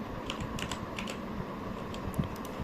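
Soft, quick keystrokes on a computer keyboard tap out a short file name, faint clicks in a brief burst against a quiet room hum.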